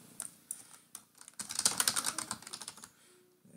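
Keys on a computer keyboard clatter in quick bursts of close, crisp taps while a shortcut is pressed and a file is exported in sign-making software, with no voices.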